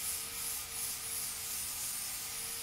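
A coarse flat disc sands the raised edge along two lines, making a continuous abrasive rubbing hiss with a faint steady whine, fairly quiet and with no talking.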